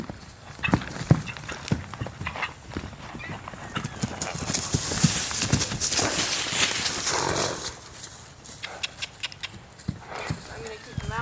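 Hank the horse cantering in a training session, his rhythmic clip-clop hoofbeats sounding close and steady, with an occasional whinny and a trainer talking over the footfalls.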